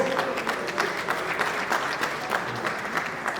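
Audience applause at an international academic conference on surveying and geoinformatics, a steady wash of many hands clapping at moderate level throughout, somewhat distant in the hall.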